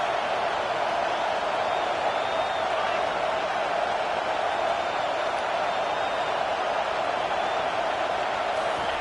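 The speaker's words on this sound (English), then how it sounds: "how nice is it to have the home crowd going absolutely bananas?" Home crowd at a football game roaring continuously, a loud, steady wash of cheering and noise filling the stadium without a break.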